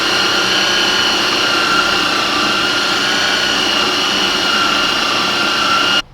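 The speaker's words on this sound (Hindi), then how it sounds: "अब दोबारा हम चॉपर चलाएंगे। 2 मिनट हम मज़ीद इसको चला के मिक्स कर देंगे।" An electric food chopper mixes chicken seekh kebab mixture with a loud, steady, high motor whine that runs unbroken for about six seconds and then cuts off abruptly.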